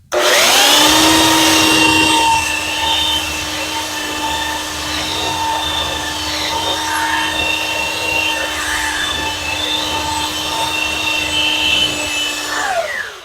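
A Masterforce 8.5 amp belt sander runs at speed setting 3 with a steady, loud whine and rough sanding hum, starting up and winding down, alone with no voices.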